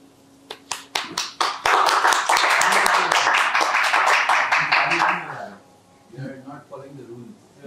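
An audience on a breakfast chat show bursts into loud, dense clapping that lasts about four seconds and then stops, followed by people talking.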